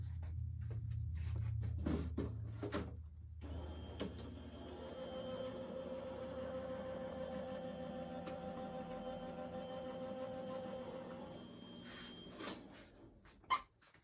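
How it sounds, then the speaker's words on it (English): A card is run through a die cutting machine, producing a steady low mechanical drone with a faint whine for several seconds. Soft clicks and handling taps come before and after it. "I'm going to run it through my die cutting machine"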